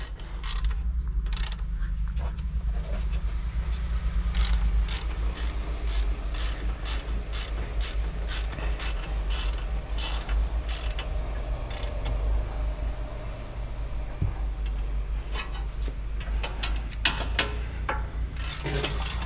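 A torque wrench ratchets while tightening wheel bolts on an Audi A7 C7 3.0 TDI quattro, giving rapid sharp clicks in bursts over a low steady hum, close and fairly quiet throughout.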